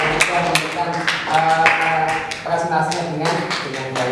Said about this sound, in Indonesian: Tepuk tangan untuk kelompok 2 yang bisa memberikan